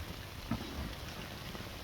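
Outdoors, rain blows onto a camera, making a steady rushing patter with a few soft low thumps from drops or gusts hitting it.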